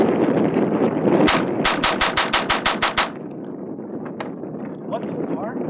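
Semi-automatic .22LR rifle firing Gemtech subsonic ammunition outdoors, a rapid string of about ten sharp, evenly spaced cracks at close range over wind and background noise, with a voice talking faintly.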